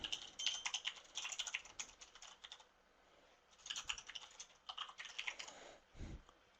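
Typing on a computer keyboard: quick, close bursts of light key clicks with a short pause in the middle, then a final heavier tap, quiet and alone.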